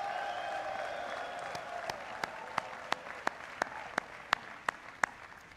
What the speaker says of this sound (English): give a big round of applause to your family for everything that they've done for you